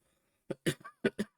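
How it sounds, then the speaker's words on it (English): Several sharp coughs in quick succession, close and fairly quiet, with brief pauses between bursts and silence before them. "I've got a bit of a bad cough."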